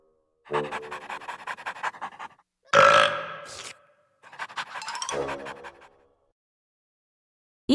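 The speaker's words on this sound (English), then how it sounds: "Little Blue let out a humongous burp." A series of burp-like sounds in a children's word lesson: three loud bursts in quick succession, the middle one short and harsh, each with a gurgling, voiced quality, separated by brief silences.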